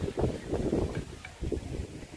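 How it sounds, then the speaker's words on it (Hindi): Strong wind blowing outdoors under dark, heavy clouds before rain, a steady rushing roar with gusts buffeting the microphone, no talk. "बहुत तेज हवाएं चल रही हैं"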